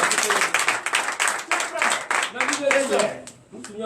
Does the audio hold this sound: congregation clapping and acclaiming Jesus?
yes